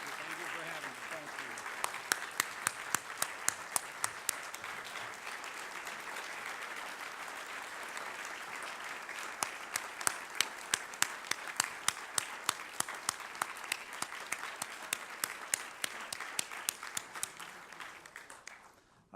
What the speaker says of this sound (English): please join me in giving a round of applause to our speaker today